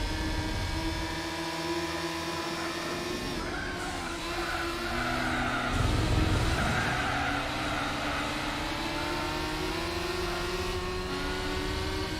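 Steady, close car engine drone from a Spider convertible in Gran Turismo 4, with climbing pitch through gear changes and a fuller, louder surge in the middle before settling into an even run.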